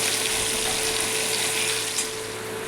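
Chopped onion and tomato fry in hot oil with nigella seeds, cardamom and dried red chillies, giving a steady, close, even sizzle with no talking.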